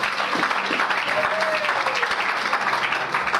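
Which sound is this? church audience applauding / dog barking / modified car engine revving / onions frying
church audience applauding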